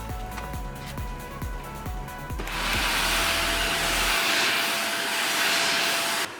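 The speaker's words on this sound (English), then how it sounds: "giving the van a good old hoover ready for the lino going in" A vacuum cleaner hoovers a van floor, switching on partway through to a loud, steady whooshing roar after a stretch of rhythmic knocking and humming, heard up close with no voices.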